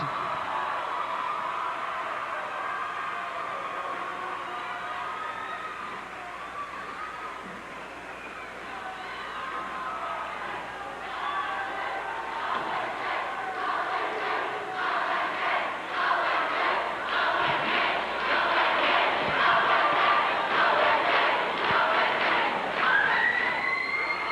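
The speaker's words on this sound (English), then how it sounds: "And the cheer goes up for the Oakland Patriots, the 1991 Region 4 AAA champions." A gym crowd at a 1991 high school regional basketball championship in Tennessee roars for the Oakland Patriots, a murmuring hall swelling into loud sustained cheering and chanting over the second half, with a public-address voice speaking early on.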